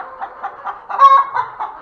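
Chickens cluck in a steady run of short, close calls, with one louder squawk in the middle.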